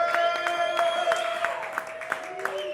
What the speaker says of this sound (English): Oh, it's good to hear that applause.